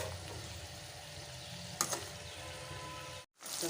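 Brinjal pieces fry in a hot pan toward golden brown, giving a steady close sizzle that runs on evenly, drops out briefly near the end, then resumes.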